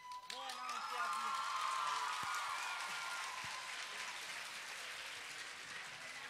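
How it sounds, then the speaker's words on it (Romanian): A crowd claps and cheers at a high school freshman ball in Romania. The dense, loud applause fills the room for the whole stretch, with voices and shouts mixed in. "Aplauze, vă rog, pentru Soare Codru, dar ați aplaudat"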